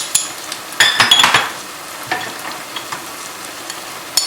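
Spices are stirred into sizzling oil with tomatoes for an aloo palak potato-spinach dish: scraping stirs and frying hiss, loudest in a burst early on, then a steady sizzle with a few utensil clinks.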